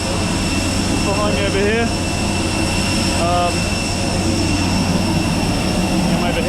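Aircraft jet engines drone steadily at an airport beside a waiting plane, a loud constant roar with a high whine, while someone talks briefly over it.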